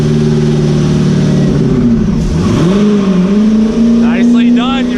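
Car engine on a dyno during a high-power pull, running loud and sustained as it climbs through the revs, dips briefly around a gear change, then climbs again. A voice cuts in near the end.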